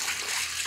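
Water rinses dry beans in a bowl indoors, a steady close wash of running, splashing water with no pauses.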